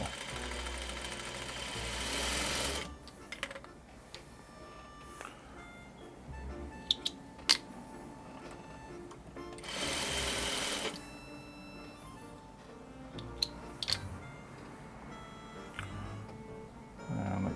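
Domestic sewing machine stitching curved clamshell quilt block fabric, several bursts of fast even whirring separated by pauses with small clicks and handling noises, close by.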